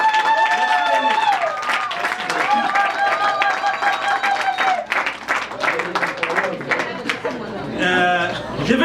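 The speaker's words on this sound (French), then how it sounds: "je demanderai à tout le monde d'applaudir très fort pour René" Guests at a graduation celebration applaud for the graduate, steady clapping from a crowd blended with loud voices talking and calling out throughout.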